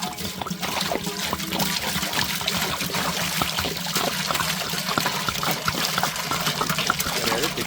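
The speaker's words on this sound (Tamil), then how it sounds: "இப்படி தானே கேன் தண்ணி வாங்கி ஊற்றிட்டு இருக்கோம்" Water pours from a can while Chicken Chukka Soru is being cooked, a steady close trickle and splash running without a break throughout.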